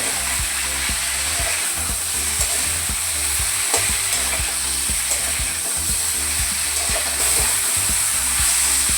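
Loud, steady sizzling of a spice mixture frying with salt, turmeric and homemade chilli powder, close up, with repeated stirring scrapes running under a constant hiss.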